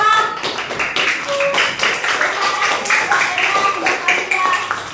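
Children in a classroom clapping for a classmate, a quick, uneven scatter of many small hands, steady and close, with voices calling out over it.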